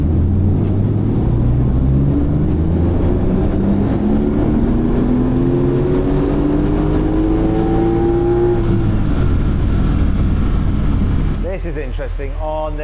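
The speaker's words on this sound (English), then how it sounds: "So this time, Toby would push the engine all the way to its absolute limit." A Porsche 911 Turbo S engine pushed to its limit, loud and close, its pitch climbing steadily through a long sustained rev before dropping off near the end.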